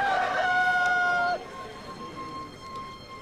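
A rooster crows once, loud and close, a long drawn-out call that cuts off sharply, followed by faint background ambience.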